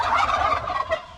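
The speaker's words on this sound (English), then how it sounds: "Turkeys!" Baby turkeys gobble in a dense, continuous chorus of warbling calls, fairly loud and close, with no talking, on a farm in the Philippines.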